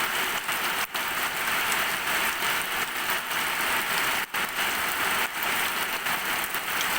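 Heavy rain pouring with strong wind, a dense continuous hiss of downpour filling the scene, steady and close with a few brief dips, no voices.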